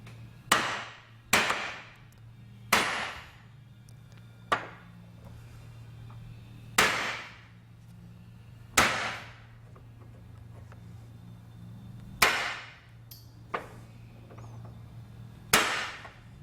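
Metal hammer blows drive a camshaft bushing into the case of a vintage Triumph motorcycle engine: about ten sharp, ringing strikes at uneven intervals, close and loud, each with a short decay, over a low steady hum.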